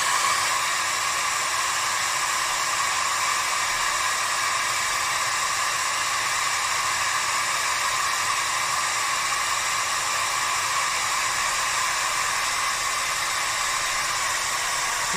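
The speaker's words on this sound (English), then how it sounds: "We're going to give it hairdryer." A hair dryer blows continuously at a steady, loud whooshing hum, unchanging throughout with no voices.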